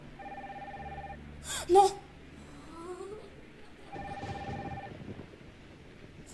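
Video game telephone rings in two bursts of steady electronic trilling, one near the start and another a few seconds later, with a voice shouting briefly between them over faint background noise.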